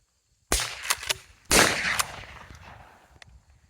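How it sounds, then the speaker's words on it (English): A dog-training popper and then a blank gun fire one after the other, two sharp close reports about a second apart. Each is followed by crackling echo, and the second sounds fuller and longer. "Popper, blank. Right after another. And hopefully you guys can hear the noise difference."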